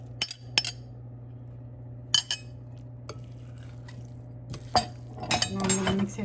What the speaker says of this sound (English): Now I'm going to mix it all together and enjoy.